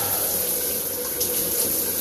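Steady shower spray runs continuously at a comfortable temperature, a dense, even hiss of falling water with no pauses, close and fairly loud throughout.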